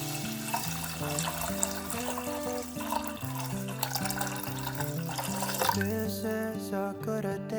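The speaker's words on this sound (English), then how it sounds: "Fill the rice with water." Water pours steadily onto rice in a pot with a soft gurgling splash, partly under background music.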